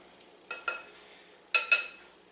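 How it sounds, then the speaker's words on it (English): Spoon or utensil clinking against a bowl while crab dip is mixed, two pairs of quick clinks separated by a pause, close and fairly quiet with no talking. "Just making sure everything's mixed without breaking everything up"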